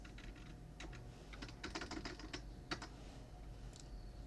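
Quiet, irregular typing on a computer keyboard, with scattered light key clicks and a short quick flurry in the middle, heard close-up with no voices.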